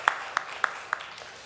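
A church congregation clapping in thanks after a Sunday service announcement, five or six sparse, fairly faint claps in a loose rhythm over a quiet room.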